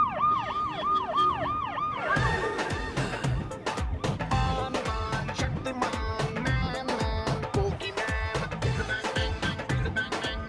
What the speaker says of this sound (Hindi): सर की गाड़ी में सायरन लगाया